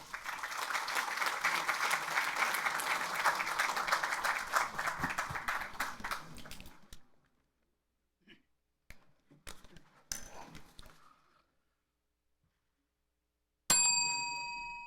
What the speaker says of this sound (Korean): 의원 여러분 큰 박수 부탁드립니다.